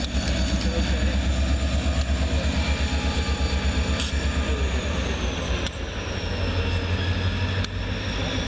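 Two Reading and Northern SD-40 diesel locomotives haul a freight train south, giving a loud, steady low engine rumble with faint squeals and clanks on top and no voices.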